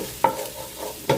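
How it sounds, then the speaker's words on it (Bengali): An egg fries in a pan while a utensil scrapes and stirs it in two brief, sharp strokes over a quiet, soft sizzle. "ডিমটা হচ্ছে সাইড দিয়ে ভেজে নিলাম"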